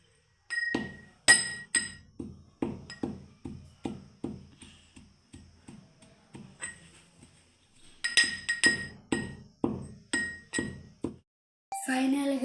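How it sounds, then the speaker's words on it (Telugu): Pestle pounding jaggery in a mortar, a series of close, sharp, ringing thuds in an uneven rhythm, pausing midway, then resuming in a second run of strikes before a short burst of other noise. "సరిపడా బెల్లం వేసుకొని దంచుకోవాలి."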